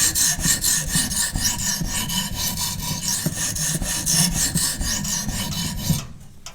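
A knife blade scraping over the coarse grey side of a Norton combination sharpening stone, continuous rapid rasping strokes, close and loud, stopping abruptly near the end; no talking.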